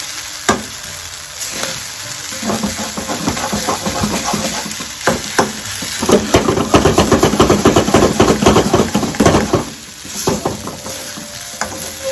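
Rice frying in a pan for a Schezwan-style fried rice, a steady crackling sizzle with repeated scraping stirs and spatula knocks, loudest toward the middle and fading briefly near the end, with no voices.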